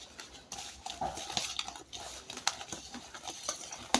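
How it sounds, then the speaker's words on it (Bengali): Mustard oil being mixed with sugar, salt and chili powder for a chalta bhorta, heard as close, irregular stirring and scraping of utensils against a bowl, with scattered clinks throughout. "দিয়ে দিলাম সরিষার তেল তেলের সাথে চিনি লবণ মরিচ মরিচের গুঁড়া সব কিছু মিক্স করে নেব"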